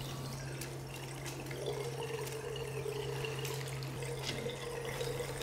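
Tap water runs steadily into a sink while hands are rinsed beneath it, a continuous close splashing hiss with slight variations as the hands move through the stream, over a low steady hum.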